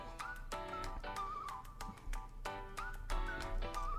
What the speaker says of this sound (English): The whistle.